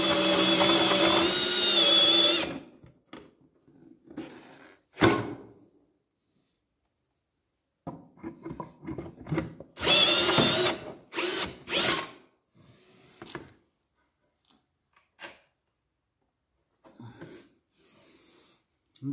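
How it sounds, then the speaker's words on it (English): A power drill bores through marble and wood to make a coaster, in loud whining bursts separated by quiet gaps and softer handling noises. "Actually it took as long to drill through the wood as it did the marble."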